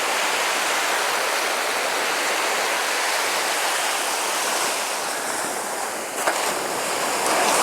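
Sea surf rolls onto Tannirbhavi beach in Mangaluru, a broad, unbroken roar of breaking waves heard up close, with a brief sharp tap near the end and no voices.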